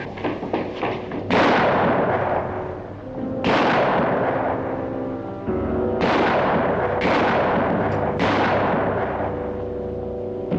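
Escaping prisoners fire guns in an old western TV drama: a series of loud, sharp gunshots with ringing echoes, about six or seven blasts spaced a second or two apart, close and dominant with no talking between them.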